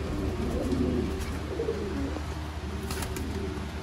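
Indian pigeons coo softly and steadily, close by, with no talking over the low, rolling calls.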